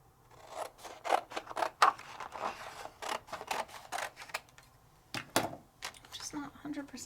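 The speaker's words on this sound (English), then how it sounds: "cut out my main die" Scissors cut out a paper die in a string of close, crisp snips and rustles with brief pauses, and a voice talks quietly in between.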